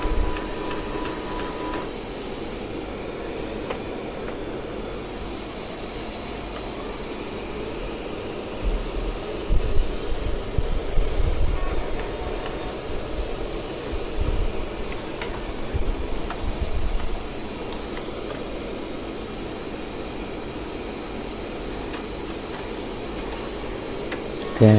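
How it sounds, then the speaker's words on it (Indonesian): An Epson L1800 DTF printer detects its paper, whirring and clunking mechanically as parts shift and motors run in uneven bursts, fairly close and without any talk. "biarkan printer mendeteksi pad ya atau kertasnya"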